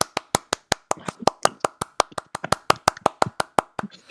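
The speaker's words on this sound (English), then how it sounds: "I want a round of applause for Hemi Dimes" Clapping from people on an online call, a rapid string of sharp, close hand claps in a fairly steady rhythm, sounding like one or a few people rather than a crowd.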